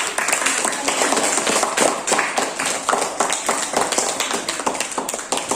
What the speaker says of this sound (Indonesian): Tepuk tangan untuk kelompok yang telah presentasi.